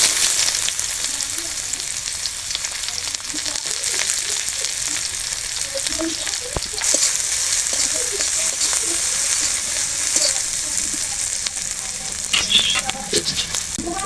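Chopped onion fries in hot oil with dried chillies, bay leaves and cumin seeds, giving a continuous close sizzle with occasional pops and stirring scrapes, no voices over it.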